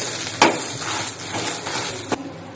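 Spices such as coriander seeds, curry leaves, urad dal, mustard and cumin dry-roasting in a pan for a Mangalorean pineapple curry, a close steady crackle and sizzle with a few sharp stirring clinks, no talking.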